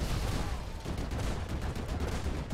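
Rapid gunfire in GTA 5, a dense continuous burst of shots at moderate loudness with no pauses.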